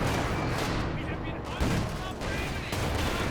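Machine gun fire in the real-time strategy game Company of Heroes 2, dense rattling bursts blended with other battle noise and a thump, continuous and loud, with a commentator's voice running underneath.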